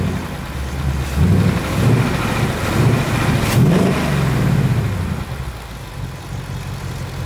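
A 2024 Ford Mustang GT premium V8 idles with a deep, steady rumble, its low burble swelling slightly midway, loud and close, with a voice briefly heard over it.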